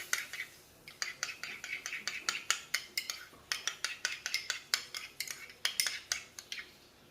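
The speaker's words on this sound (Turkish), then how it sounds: "Yoğurdumuzu karıştırıyoruz" A spoon scrapes and clinks steadily against a bowl as yogurt is stirred for homemade İskender kebab, with quick regular strokes close by.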